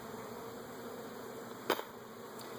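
Honeybees buzzing in an opened beehive make a steady, even drone like an air conditioner, with a brief louder insect pass near the microphone partway through.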